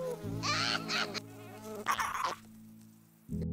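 Cartoon flies from the animated film Minuscule buzz loudly in short, steady droning bursts, one overlapping another, with brief quiet gaps between.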